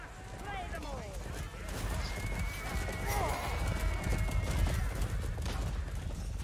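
Horses gallop with rapid clip-clop hoofbeats and loud neighs in the medieval combat video game Chivalry 2, amid battle clamor and distant clashing, with a voice speaking over it.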